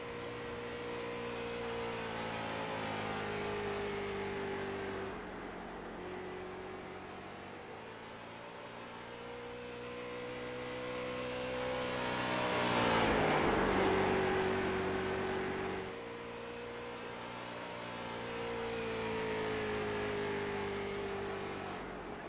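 A street stock car engine laps Bristol in the iRacing sim, its loud continuous drone rising and falling in pitch through the banked turns and straights, with a brief swell and gear-change dip around the middle of the lap, no talk.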